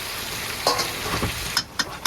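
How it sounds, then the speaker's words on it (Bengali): Crab curry being fried down in a pan gives a close, steady sizzle punctuated by several sharp clicks and scrapes of stirring, with no voices. "কাঁকড়াটা কষা করেছে পুরো ভাজা ভাজা করে একদম কষাই করেছে"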